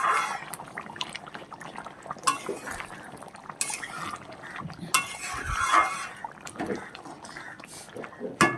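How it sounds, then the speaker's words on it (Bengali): Potato curry (aloo dum) being stirred in a pan, with soft wet sloshing, scattered clinks of a spoon against the pot and intermittent clatter, close by. "এবার একটু নেড়ে চেড়ে দিলাম।"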